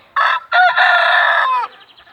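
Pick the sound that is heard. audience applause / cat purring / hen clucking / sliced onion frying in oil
hen clucking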